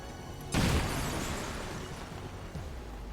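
A frag grenade detonates in XCOM 2: War of the Chosen, one sudden loud blast whose rumble decays slowly over the following seconds, standing alone with no talk.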